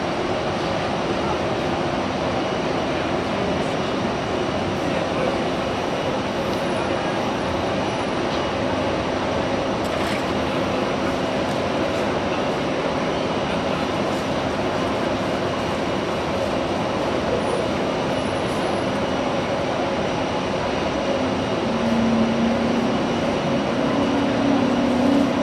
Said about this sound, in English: Embraer E195E2 is lining up.